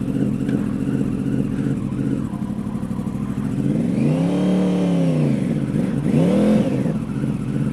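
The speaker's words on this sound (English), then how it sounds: "So now I got to go over to the courthouse or start my bike first" A motorcycle engine sputters to life and then revs twice in rising and falling sweeps over a steady running rumble, close and loud with no talking.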